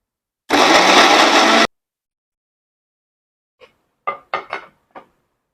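Short burst of blender motor, about a second long, as dried ginger and garlic are ground into paste, followed by a pause and a few light clinks and knocks of utensils.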